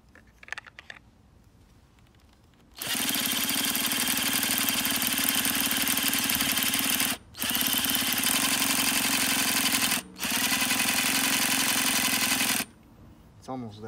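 A Nitro Rustler RC car's small nitro engine fires up after a few faint rattles, then screams at a loud, steady buzzing pitch, cutting out briefly twice before catching again and finally dropping off near the end.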